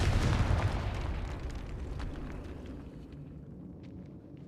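Explosion from the Confringo blasting spell in Hogwarts Legacy, a loud booming blast at the start that rumbles and decays over several seconds into quieter crackling debris.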